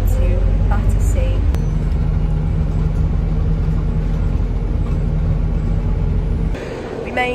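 Inside a London bus, a steady low engine rumble and road drone carries on throughout, with a few brief knocks and rattles, then drops to a quieter hum near the end.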